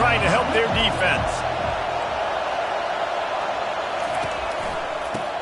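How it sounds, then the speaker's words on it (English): A stadium crowd roars during a football game as the defense takes the field, a dense, sustained wall of cheering that stays loud throughout, with a few short thuds and voices early on. "Listen to this crowd just shaking the girders of this place, trying to help their defense."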